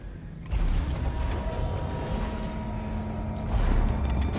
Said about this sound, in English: hear that door?